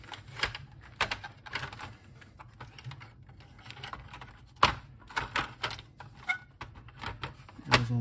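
Plastic clicks and snaps as the keyboard of an Oril BK-08 computer is fitted back into its case, irregular taps and knocks of handling at close range, no talk.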